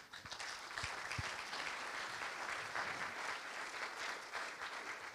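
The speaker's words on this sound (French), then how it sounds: "Je pense qu'on peut les applaudir aussi." A conference audience at a GenAI event in Rennes applauds the sponsors, a steady, fairly distant wash of many hands clapping that holds evenly throughout with no talk over it.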